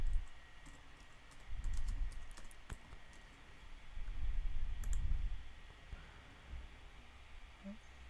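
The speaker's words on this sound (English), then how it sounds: "So I would go and just type in Kylie Jenner" Soft, rapid clicking of a computer keyboard as a search is typed, faint and close, with a low background rumble and brief bursts of keystrokes.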